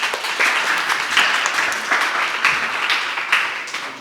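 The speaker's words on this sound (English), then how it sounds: "a quick round of applause there" A brief round of applause from an audience at a round-table session, a steady patter of clapping that swells and dips slightly, moderately loud, with no voices over it.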